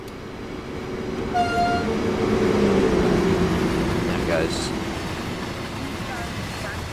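A DB Dispolok 182 electric locomotive rolling past in the Train Sim World 3 Kassel–Würzburg route, a swelling rumble that peaks midway and fades, with a brief horn-like tone early on and a voice speaking over it.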